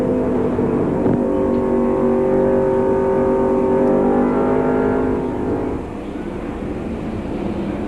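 Race car engine at Nazareth Speedway during a 1995 race, a loud sustained harmonic drone sweeping in pitch as the car runs down the straightaway under caution, then fading slightly toward the end.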